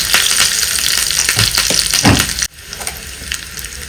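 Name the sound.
garlic, dried red chillies and curry leaves sizzling in hot oil tempering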